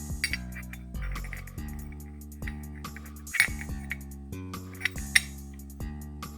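A Bartolone flywheel wrench tightens a flywheel nut, giving scattered sharp metallic clinks and taps over a steady low hum.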